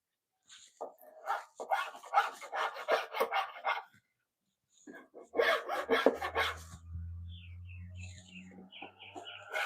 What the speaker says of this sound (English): The file's doing more than the chisel did.